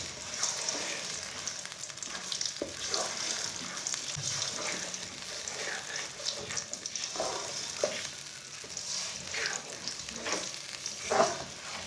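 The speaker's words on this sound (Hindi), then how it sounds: "अब सूजी डाल लेंगे। इसे अच्छी तरह मिक्स कर लेंगे।" Semolina sizzling and frying in oil heated on a stove for makhandi halwa, stirred with steady scraping strokes; a continuous close hiss with occasional utensil clinks, no voices.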